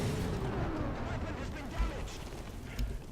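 Rockets launching from a premium tank in a video game, a dense run of muffled booms and bursts with two heavier thumps standing out, mixed with faint voice-like chatter.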